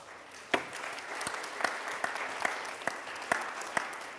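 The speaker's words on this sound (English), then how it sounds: "A round of applause for them." Audience applause following a closing debate at a drugs-policy satellite event: steady mid-distance clapping from a room of people, with sharper individual claps standing out at a regular pace.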